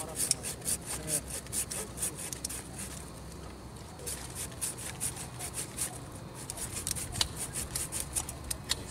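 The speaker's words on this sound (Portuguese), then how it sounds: "Pega direito no serrote." A handsaw cuts through a white mulberry tree branch in quick, rhythmic back-and-forth rasping strokes, close and clear, with a brief pause partway through.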